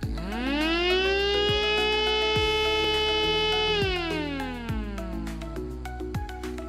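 Homemade miniature STL-10 siren run at a full 5 volts: a loud, high-pitched wail that quickly winds up to a steady tone, holds, then winds down, with faint rhythmic clicks underneath.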